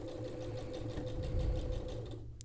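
A domestic sewing machine stitches a bridesmaid dress alteration at a short stitch length, a steady fast mechanical whir with regular needle pulses close by, stopping with a small click at the end.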